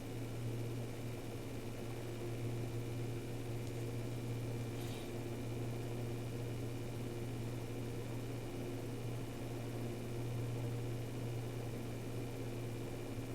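A KingWin CF-012LB computer case fan runs with a faint, constant airy hum and steady low drone, unchanging throughout.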